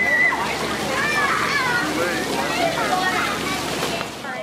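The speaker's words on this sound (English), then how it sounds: "the camera's getting kind of dusty, I should just rinse it off." Water splashes and sloshes steadily over a dusty Panasonic G9 camera as it is rinsed off. The close, continuous rushing and splattering plays under voices.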